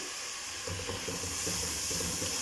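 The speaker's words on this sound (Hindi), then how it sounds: "और मसाले को अच्छी तरह भून लूँगी।" Spices and crushed tomato sizzle and fry in a pan, a steady, close crackling hiss with a faint bubbling texture throughout and no talking.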